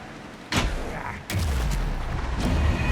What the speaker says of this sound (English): Anderson, gunfire for me to get the light on him.